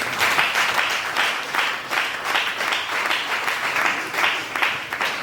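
A church congregation applauding at an Easter service, a dense, loud burst of clapping that swells in rhythmic waves and continues steadily throughout, close and without speech.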